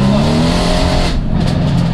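A 620 bhp Mercedes C63S AMG spinning its rear wheels, the engine roaring loud and close with rising revs and tyre scrabble, then easing as the note drops away.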